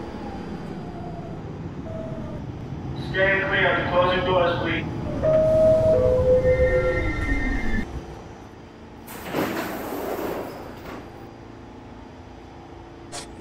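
A New York subway E express train, an R46, rumbles and hums, with a brief squealing tone and a hissing burst of air like doors, steady and fairly near.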